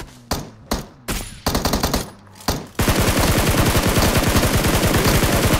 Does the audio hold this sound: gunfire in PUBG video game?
yes